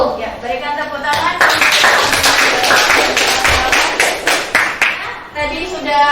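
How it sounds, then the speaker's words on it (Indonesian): Classroom applause after student presentations in a school lesson, a burst of many hands clapping loudly and densely, with voices talking before and after the clapping. "berikan tepuk tangan"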